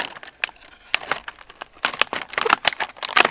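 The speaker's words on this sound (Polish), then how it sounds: "Nożyczki i plastik." Small scissors on a Roxon Storm S801s multitool cutting plastic, a quick series of close, crackly snips and crinkles over a few seconds, getting busier near the end, with no voices.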